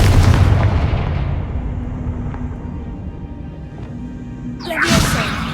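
A Confringo fire spell bursts in Hogwarts Legacy, a loud booming blast at the start that rolls off into a long fading rumble, followed by a second sharp impact near the end.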